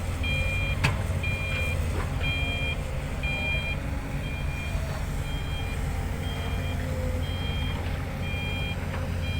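A Zoomlion ZE215E excavator rumbles steadily nearby while loading a ten-wheel truck, a reversing alarm beeping in a regular pattern, with occasional clanks and scrapes of digging and loading.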